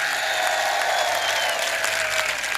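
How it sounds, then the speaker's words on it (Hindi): Loud, sustained audience applause fills the hall at a poetry recital event in Karauli, India, a dense steady clapping with no pauses throughout. "एक बार जोरदार ताली करौली प्रशासन के लिए"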